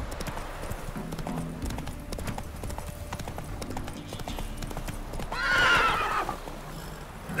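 Roach, a horse in The Witcher 3, gallops with rapid rhythmic hoofbeats, then lets out a loud, close, shrill neigh near the end.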